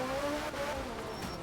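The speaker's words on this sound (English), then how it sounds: "It looks like a Peugeot. It sounds like a Peugeot. It acts like a Peugeot." A Peugeot race car passing at speed, its engine note rising and sliding in pitch as it goes by, loud and sustained with no talking.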